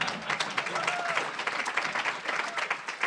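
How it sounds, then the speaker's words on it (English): Audience applause at a business conference, a dense sustained wash of many hands clapping with scattered voices mixed in, steady and fairly loud throughout. "No, please, no applause, please."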